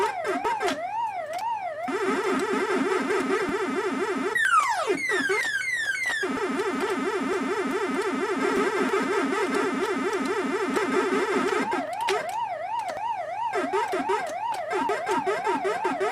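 Commodore 64 Pac-Man game sounds play alone: a continuous warbling, siren-like wail with a steady rapid chomping pulse, interrupted by quick descending and rising bleep sweeps, all loud and synthetic throughout.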